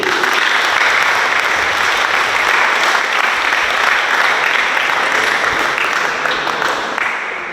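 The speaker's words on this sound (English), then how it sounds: "Let's give a round of applause to" A hall full of people at a high school Jeopardy competition claps in a dense, steady burst of applause that fades slightly toward the end.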